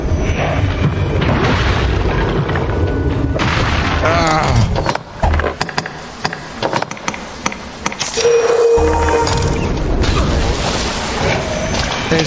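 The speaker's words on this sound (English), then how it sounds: "He's shooting fireballs at me." Fireball attacks from a skeleton knight in Dragon's Dogma: Dark Arisen, heard as repeated booming blasts and whooshing impacts over dense game music and sound effects, with a short quieter gap midway.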